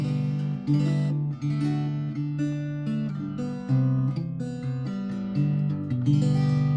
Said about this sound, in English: What you're hearing here are light gauge phosphor bronze strings that are pretty old now